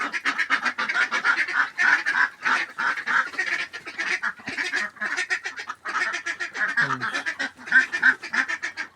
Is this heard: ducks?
yes